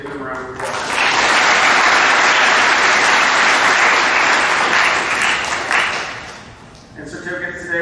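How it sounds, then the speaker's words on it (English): A school awards assembly crowd bursts into loud, sustained applause after a short spoken line, clapping holding strong for several seconds before tapering off as a voice returns at the end. "Let's give him a round of applause."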